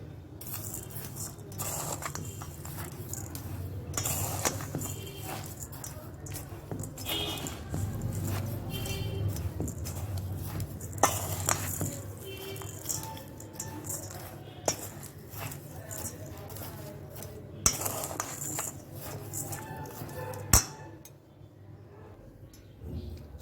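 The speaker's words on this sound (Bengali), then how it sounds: "আমি সমস্ত উপকরণ দিয়ে আগে এগুলো মিশিয়ে নিচ্ছি।" A spoon scrapes and clinks against the metal of a pressure cooker while basanti pulao ingredients are mixed, a long run of close, uneven metallic taps and stirring rustles with a few sharper knocks, and no speech.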